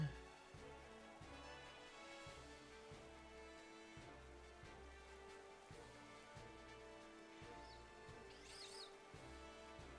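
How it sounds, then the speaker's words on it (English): Faint, steady rain patters down continuously, with soft irregular drops and a few distant bird chirps in the background. "It's raining."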